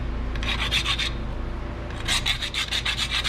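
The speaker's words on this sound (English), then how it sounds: "Because it's too hard to get to put the brake pad to the brake caliper bracket, so you just need to grind a little bit." A brake pad for a 2016 Nissan Pathfinder is ground down to fit its caliper bracket, giving two short bursts of raspy, rhythmic scraping strokes over a steady low background hum.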